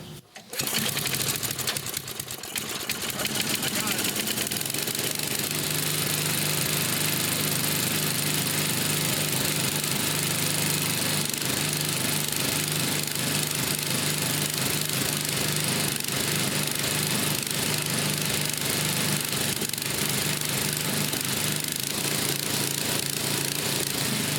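Snowblower engine sputtering to life after a brief rough start, then settling into a loud, steady, buzzing idle that runs continuously up close with no talk over it.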